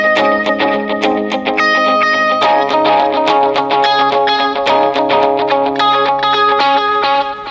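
An electric guitar played through an Axe-Fx effects processor set for a particular song's tone rings out in rapid, repeating delayed notes, shimmering with echo and chorus, loud and continuous.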